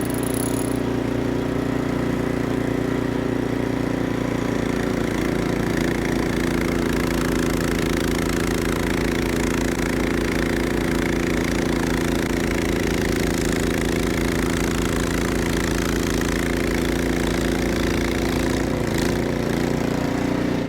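A snowblower fitted with an impeller kit runs steadily at close range, a loud, even droning engine rumble with no change in pitch and no voices.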